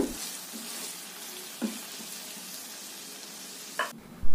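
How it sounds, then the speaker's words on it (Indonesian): Chicken stir-fried with spices in a pan for a spicy green-chili chicken dish, a steady close sizzle with a few sharp scraping stirs and a louder clatter near the end. "Kemudian, tumis ayamnya sampai tercampur rata dengan semua bumbu."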